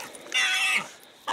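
A caught wild hog in a swamp squeals in one loud, strained burst lasting under a second, close by, followed by quieter rustling and a short noise at the end.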